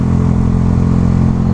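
A motorcycle is ridden with a loud, continuous engine drone that holds steady and close throughout, with no talk over it.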